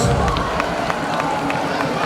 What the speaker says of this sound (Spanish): Aplauso para ellos.